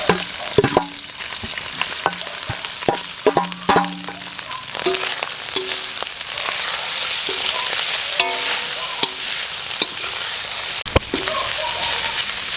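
Beef sautéing in a pan with garlic and onion, sizzling steadily with repeated clinks and scrapes of stirring, close and moderately loud with no talk.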